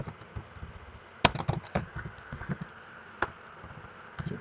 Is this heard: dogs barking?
no